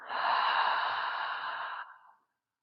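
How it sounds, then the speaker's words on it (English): A single long, steady exhale of breath during a yoga session, close and clear, lasting about two seconds before trailing off into silence. "Exhale."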